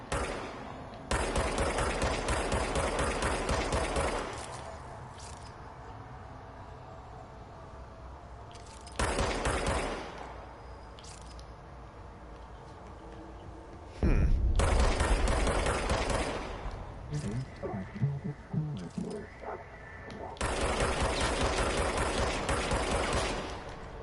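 Gun in the video game Control firing in several long rapid automatic bursts, loud and close, separated by quieter gaps with clatter and mechanical noise.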